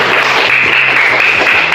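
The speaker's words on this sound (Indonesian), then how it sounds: "tepuk tangan untuk teman" Brief burst of loud, dense applause from a classroom of students, continuous crackling claps with no break.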